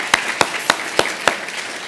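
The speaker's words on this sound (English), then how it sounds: "It's not canned applause, it's live applause." Scattered live applause at an annual meeting plenary lunch, five or six distinct claps spaced evenly apart, fairly close and isolated rather than a full ovation.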